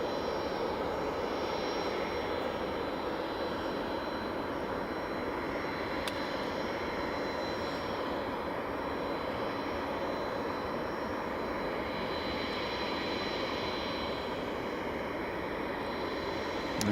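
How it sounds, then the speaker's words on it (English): Steady, distant whine and rumble of a Jet2 jet airliner taxiing at Glasgow Airport, a continuous engine drone holding level throughout with no voices. "There's the other Jet2 just taxiing out."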